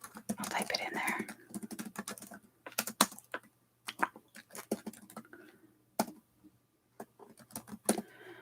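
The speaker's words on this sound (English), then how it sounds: "So I'll type it in there." Soft, close typing on a computer keyboard in a quiet room, with irregular bursts of light clicks and brief pauses, plus faint whispery mouth sounds.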